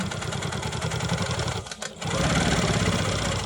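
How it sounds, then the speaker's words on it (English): A Quilt Maker Pro 20 longarm quilting machine stitches over a quilt block, producing a fast, continuous mechanical whir and rattle close by, with a brief dip and pause before resuming at full speed. "I'm stitching on top of a previously stitched line"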